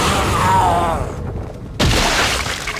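Gunfire in a video game gives a sharp, loud boom with a shattering crack. The blast cuts in suddenly after a brief lull, over a busy layer of other game sound.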